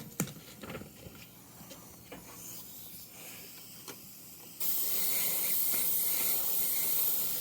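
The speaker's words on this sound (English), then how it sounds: "So when I'm spraying," A few light clicks and taps give way to a sudden, steady spray hiss of paint being sprayed onto a Mustang car headlight, continuing loudly until the end.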